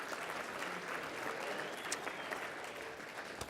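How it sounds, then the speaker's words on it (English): Steady, moderately distant applause from a luncheon audience at an awards event, acknowledging a committee; even clapping continues throughout with no break. "Let's please give that committee a round of applause."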